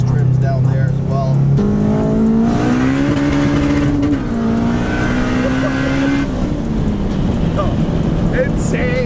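A turbocharged K20 Honda Civic hatchback accelerates hard, the engine pitch climbing steeply through a gear, dropping briefly at a shift, then rising again before backing off, loud and close.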